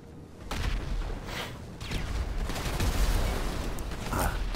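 A tank in GTA 5 Online being hit by gunfire and explosions, with a dense rumbling barrage of shots and booms that swells and stays loud throughout.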